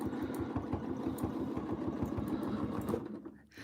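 A sewing machine quilting stitch in the ditch chatters in a fast, even stitching rhythm close by, then slows and stops near the end, with no speech.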